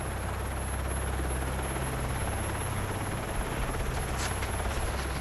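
Steady helicopter rotor drone, loud and continuous throughout with a deep thumping low end, no voices.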